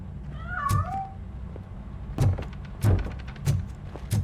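A cat meows once in the game RoboCop: Rogue City, a clear rising-falling call near the start, followed by several soft thumps and game footsteps with no talking.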